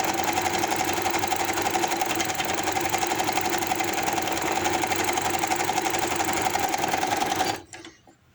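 Sewing machine runs steadily while stitching fabric strips for a baby hoodie, a close rapid mechanical whir with even needle rhythm that stops abruptly near the end, leaving a faint clatter.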